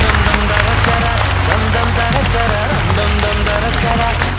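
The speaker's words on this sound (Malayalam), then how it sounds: "നല്ലൊരു കയ്യടി" Studio audience applause at a Malayalam TV comedy show, a dense, steady wash of clapping and crowd noise that holds loud and close through the whole stretch, with some voices mixed in.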